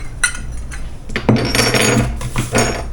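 A metal pan is pulled out and set down for an Oreo peppermint cheesecake, with several close, loud clanks and rattles of pans and utensils knocking together over about three seconds, no speech.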